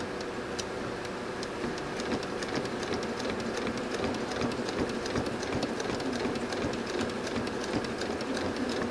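A sewing machine stitches quilt pieces with a steady, rapid mechanical ticking rhythm, running continuously at an even level, close up with no talking.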